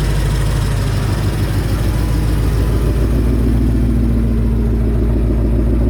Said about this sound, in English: Factory mufflers, they have a good tone. Sounds nice and throaty. You got that nice solid V8 sound